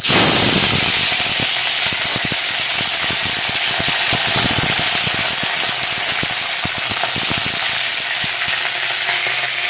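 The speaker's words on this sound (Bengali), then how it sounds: "একটু সর্ষে দিয়ে দিলাম, বেশি সর্ষে কিন্তু দেব না। আর এরপরে দিয়ে দেবো কারি পাতা।" Mustard seeds and curry leaves splutter in a little hot oil over a low flame while semolina upma is being made. The crackle is loud, dense and close, with rapid popping throughout.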